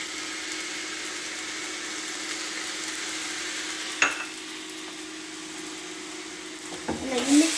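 Egg fried rice with soy sauce being mixed in a pan over a steady hiss of frying, with occasional soft scrapes of a utensil and a louder stir near the end.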